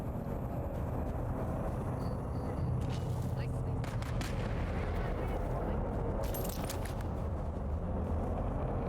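Gunfire in the survival game Dune Awakening, a dense continuous barrage of shots and booms over a rumbling, noisy game soundscape, loud and sustained throughout without clear pauses.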